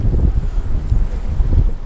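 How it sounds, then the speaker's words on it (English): Strong wind gusts buffet the microphone outdoors on a cold, brutally windy fishing day, a loud, rough low rumble that pulses unevenly throughout. "It is so windy out here."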